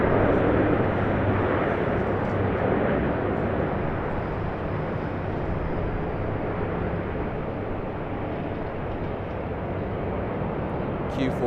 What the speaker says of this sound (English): Q400 of QantasLink. Wasn't expecting that to be the next departure.